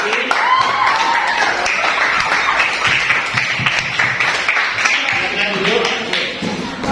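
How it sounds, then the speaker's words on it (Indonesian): Classroom audience claps for a student group after their presentation, a steady patter of hands at close range with voices mixed in over it. "Tepuk tangan buat kelompok ini"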